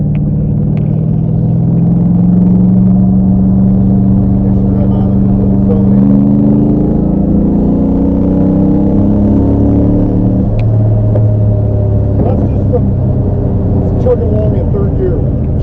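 A 1972 De Tomaso Pantera with a Cleveland engine rumbles steadily at low pitch, its engine note shifting slightly as it drives, heard throughout under continuous conversation inside the car.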